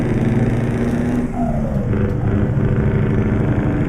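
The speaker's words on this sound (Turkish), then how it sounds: "V8 sesi kükrüyor abi kükrüyor" A deep, rumbling V8 truck engine in Euro Truck Simulator 2 idles and revs steadily, with a continuous loud low-end roar throughout.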